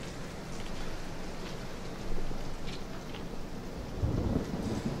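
Steady rain patters and drips through a broken window in a Resident Evil game, a close, dense hiss with scattered heavier drops and low rumbling swells.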